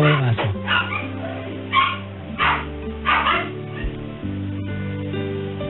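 A dog left outside barks and whimpers in several short bursts over a steady, loud musical background.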